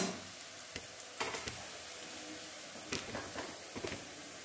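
Chicken pieces go into a pan of browned onions and fry with a steady soft sizzle, broken by a few sharper stirring scrapes and clatters, fairly quiet and close with no talking.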